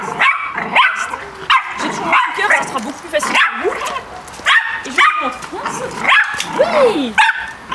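Dog barking and yipping during tire jump training, repeated sharp barks and whimpers close by, with a person talking over much of it.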